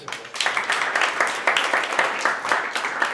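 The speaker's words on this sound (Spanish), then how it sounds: "Aplausos" Applause from an audience at the close of a talk at a circular economy event, many hands clapping in a moderately loud, slightly uneven rhythm, rising after a brief quieter start and continuing steadily.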